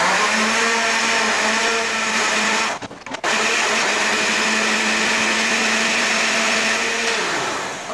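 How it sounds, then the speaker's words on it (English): A blender whirs loudly and steadily while blending vegetables, briefly cutting out in a short pause before restarting and running on. "and then I'm going to blend all this very smooth."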